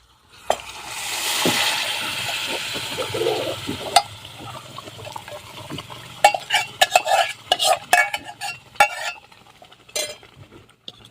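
Cooked mutton is stirred into masala in a pot over a wood-fired stove at a farmhouse. A spoon scrapes and clatters against the pot in irregular strokes, with a gentle sizzle beneath, all close and fairly loud.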